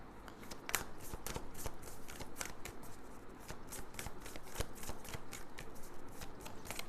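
Tarot cards shuffled by hand in a steady run of crisp riffling snaps and soft slaps, close and fairly quiet, with no voices.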